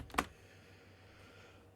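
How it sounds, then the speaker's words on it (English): A Ctrl+C key combination pressed on a computer keyboard gives a single short, faint click near the start, followed by quiet room tone. "you stop it by holding down the control or CTRL key on your keyboard and the letter C together"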